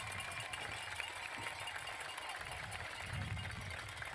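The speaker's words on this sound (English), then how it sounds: "Please help me by giving these young ladies a great big round of applause." Crowd applause for a talented young ladies' athletic team at a Cowboys versus Cobras game on 10/13/2023, a steady, wash-like roar of clapping and cheering, distant but sustained under a busy stadium-like ambience.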